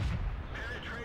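A tank gun shot from an M24 Chaffee in World of Tanks hits enemy artillery, a short, muffled low boom that fades quickly, with a voice commenting over it.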